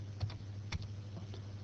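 Dimensions being typed on a computer keyboard while drawing a tank model in CAD, a few soft, scattered key taps, close but quiet over a steady low hum, with no talk.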